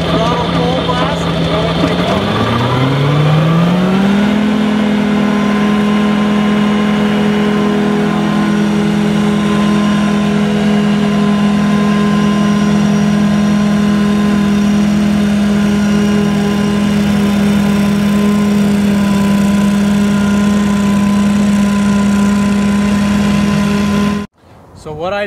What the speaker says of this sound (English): To engage the blades, basically just pull this lever up. Here we go. Go ahead and throttle full blast.